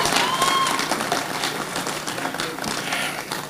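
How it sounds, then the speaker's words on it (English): Audience applause for a kids' cook-off at the American Royal barbecue event in 2013, a dense, steady clapping crowd with some cheering and voices mixed in, sustained and fairly loud throughout. "Big round of applause."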